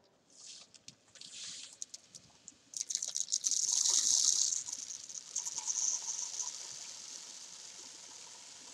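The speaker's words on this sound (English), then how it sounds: "you can pour the grains into the bottle." Grains poured into a bottle, a pattering rush that starts in short bursts and then settles into a steady, fairly close hiss of falling grains before tapering off.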